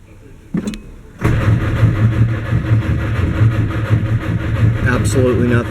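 A 1959 Mercedes-Benz 180D diesel with new Bosch glow plugs and an Optima battery cranks steadily without catching, a continuous loud churning starter drone after a brief click, with a voice talking over it.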